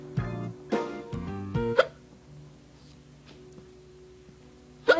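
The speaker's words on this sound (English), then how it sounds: "Do you have the hiccups?" A woman hiccups repeatedly, several sharp voiced hiccups in a quick irregular series near the start, then a quiet pause before one more abrupt hiccup at the end.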